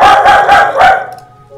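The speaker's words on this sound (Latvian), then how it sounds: "Suns nenomierināsies." A dog named Klēra barks four times in quick succession, loud and close, then falls quiet with a faint trailing whine.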